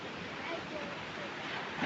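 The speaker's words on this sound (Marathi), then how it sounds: "समुद्राच्या लाट्यांचा आवाज बघा" Steady broadband rushing of surf washing onto a shore, continuous and fairly loud, with wind noise blended in.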